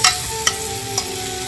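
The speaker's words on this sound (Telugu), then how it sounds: "పక్కన ఎగ్స్ ఇలా బాగా రోస్ట్ కావాలండి." Eggs roast and sizzle in a frying pan for a drumstick egg curry, a steady close hiss with a few faint clicks of a spatula.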